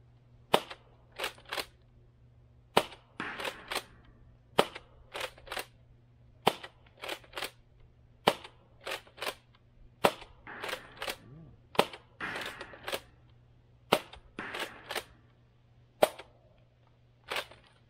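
Nerf Rival Saturn blaster fitted with a tactical shotgun mod firing sharp, snappy shots one after another in an uneven rhythm, each crack followed by a brief rattle as balls strike and ricochet off a target, heard close in a quiet room.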